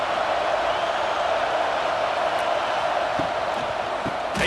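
A stadium crowd in the NCAA Football 26 video game roars as a steady, dense wall of noise that stays loud throughout, with no pauses.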